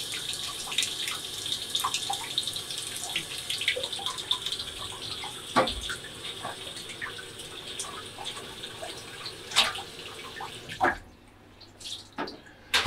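Warm water runs steadily into a distilling boiler in a cramped lab, a continuous splashing rinse with occasional drips and clanks, then it cuts off near the end leaving only faint drips.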